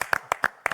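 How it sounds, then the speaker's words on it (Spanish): Brief scattered claps, a few distinct hand claps in a short burst, greeting guests arriving on a Uruguayan TV talk show studio set, close and moderately loud with no talk over them. "a quienes recibimos con un fuerte aplauso"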